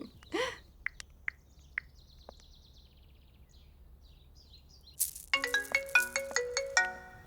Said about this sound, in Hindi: ओह, फोन।